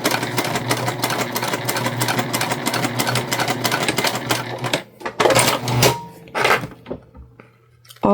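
A sewing machine runs a short 1/8-inch seam to close a turn hole, whirring in a fast steady rhythm for several seconds before stopping, followed by a few brief clatters and bursts of handling noise.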